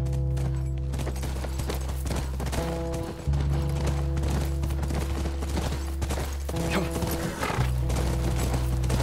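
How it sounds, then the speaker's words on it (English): A horse in the video game The Last of Us Remastered whinnies over rhythmic hoofbeats, with a loud droning game soundtrack and low hum running steadily underneath. "That's our horse."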